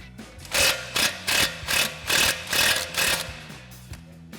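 Impact wrench with an 18 mm socket loosening the upper ball joint nut on a GMC Sierra 1500, firing in about seven loud, evenly spaced hammering bursts close by, then easing off.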